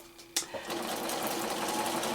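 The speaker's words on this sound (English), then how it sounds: "I'm going to have a little bit of a bump here as I sew over that" A sewing machine stitching through vinyl layered with wax paper, starting with a sharp clack and then settling into a steady, continuous mechanical whirr that runs evenly for about two seconds at close range.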